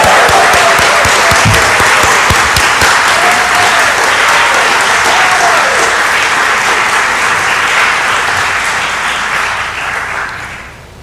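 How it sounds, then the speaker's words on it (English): A church congregation gives warm applause for the musicians at a Sunday morning service, dense and loud for about ten seconds before tapering off at the end. "Let's give a nice applause to our music makers this morning."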